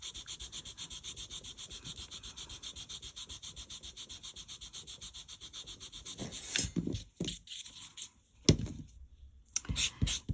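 An eraser rubs firmly back and forth on paper, close and quiet, in a steady fast scrubbing rhythm. Toward the end come scattered louder rustles and handling bumps.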